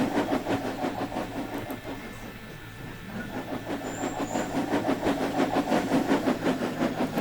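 A steam train chase in an animated railway story, with a rhythmic chuffing and rolling wagon clatter that keeps pulsing loud and close throughout, briefly thinning before building again.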